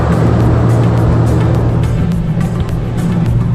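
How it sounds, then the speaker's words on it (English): A loud fan running in a garage, giving a steady, dense whirring drone with a low hum underneath and no speech. "that fan that's always making noise again,"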